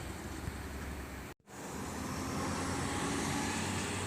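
ANS intercity bus bound for Padang passing at night on Jalan Kramasan in Palembang, a steady loud roadway rumble with a brief dropout, then the engine and tire noise swelling and holding close by.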